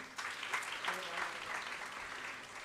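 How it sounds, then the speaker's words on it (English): Applause from a seated audience at a 2022 career seminar, given for the organiser. The clapping is brief, moderate and fairly distant, with a steady patter that fades out after a few seconds. "So big round of applause for her"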